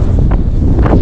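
Strong wind gusts buffet the microphone on an exposed limestone massif in the Chartreuse mountains, a steady close roar with no voices.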